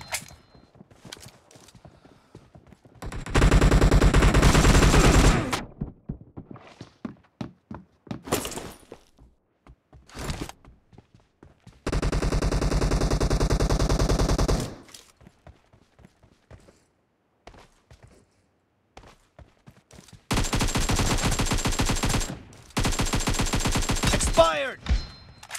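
Bursts of automatic gunfire in PUBG Mobile during a team deathmatch, three long rapid volleys separated by quieter stretches of footsteps and clicks, loud and close.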